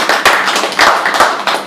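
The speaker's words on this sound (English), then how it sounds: "Please give them a huge round of applause" Loud, close clapping from an audience at a comic speech event, a short burst of rapid, dense hand claps with a few sharper accents.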